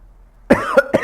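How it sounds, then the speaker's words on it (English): Three sharp, loud coughs in quick succession, close up, following a quiet moment during a sports podcast recording. "Y'all know what time it is with the coughing"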